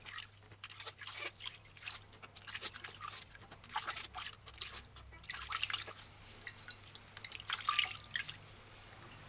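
Oranges being rubbed and washed by hand in a bowl of water, with steady close splashing, dripping and wet squelching that rises and falls throughout, no talking.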